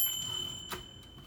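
A 1956 Royal Quiet Deluxe typewriter's bell gives a single short, bright ding, close and clear against a faint background, with no voices.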